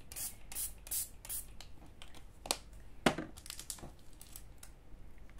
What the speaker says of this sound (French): je mets surtout mes encres en spray qui se bouchent